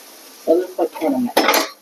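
Chapati cooking with oil in a pan, heard as short metallic scrapes and clinks of a utensil against the pan, a few separate knocks ending in a brief sizzling burst, with no talk.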